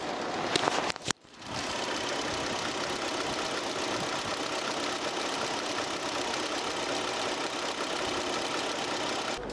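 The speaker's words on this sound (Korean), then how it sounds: "엔진 소음도 한번 들어보시도록 하겠습니다" A Kia Opirus Premium GH270 luxury sedan engine idles steadily at close range, a smooth, quiet continuous hum after a brief thump near the start.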